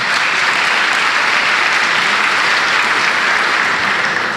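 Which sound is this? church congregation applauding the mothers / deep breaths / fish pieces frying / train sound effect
church congregation applauding the mothers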